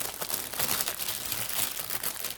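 A resealable plastic bag holding parts of a 1/144 Mikro Mir Blackburn Beverley model kit is handled up close, giving continuous loud crinkling and rustling with irregular crackles throughout.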